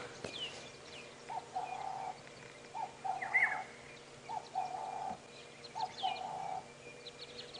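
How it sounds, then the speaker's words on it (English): A black-headed oriole gives liquid, chortling calls during a safari drive, a series of short, clear phrases repeated at regular intervals over a quiet outdoor background, with other faint birds present. "you can hear that liquid chortle of the black-headed Oriole"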